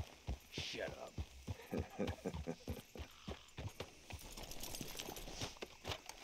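Horse hooves clip-clopping in Red Dead Redemption 2, a run of close, evenly spaced knocks over several seconds, with voices talking over them.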